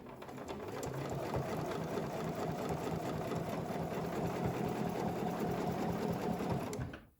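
A sewing machine stitches a quilt with a steady, rapid mechanical whir and needle chatter running continuously, then stops abruptly near the end.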